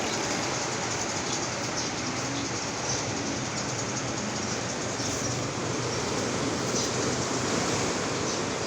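Waves wash steadily onto a beach at Nias, a continuous broadband surf roar with no distinct breaks or voices.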